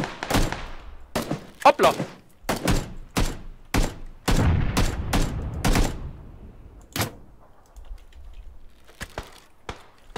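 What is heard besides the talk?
gunfire from shooting in the video game PUBG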